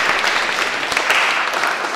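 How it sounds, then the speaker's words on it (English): A church congregation applauds priests at a Holy Ghost Fathers priestly ordination: brisk, full clapping that holds steady for the whole stretch, with no voices standing out. "Let's clap for them."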